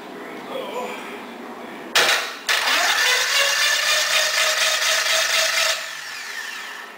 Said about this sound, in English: Thought you might want to hear it spin over.